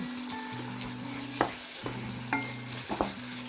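Tomato and brinjal curry with dry prawns stirred in a pan, a spoon scraping with a few distinct knocks over a steady low sizzle, fairly quiet and close, with no talking.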